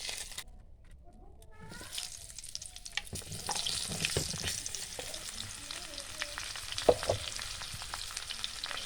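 Sing fish and eggplant fry in hot oil for a Bengali-style rosa, giving a steady sizzle that swells and crackles, with occasional stirring clinks and utensil knocks.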